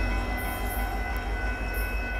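Northbound Union Pacific box car freight train passing at Dittmar Road in Austin, a close, steady rumble of wagons with a low rolling roar and faint high wheel squeals over it.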